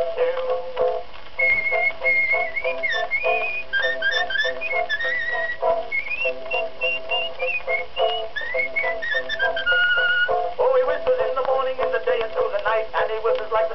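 A person whistles a lilting melody over steady instrumental backing in an early vaudeville recording, the whistled line rising and falling continuously throughout.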